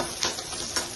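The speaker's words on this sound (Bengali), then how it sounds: "ভেজে নিচ্ছি" Rohu fish pieces fry in a pan for a Bengali fish curry, giving a continuous close sizzle with two brief bursts of stirring or spatter, and no voices.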